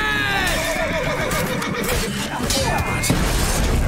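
Horse neighing in the video game Witcher 3, a loud, wavering whinny rising over the noise of a raging battle, with hooves and clashing underneath.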